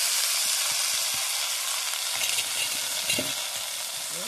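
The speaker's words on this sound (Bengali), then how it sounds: "তারপর আলুটা দেবো, আলুটা তুলে দেবো।" Potatoes fry with gima greens in a pan, giving a bright, continuous hiss with soft stirring knocks and scrapes underneath.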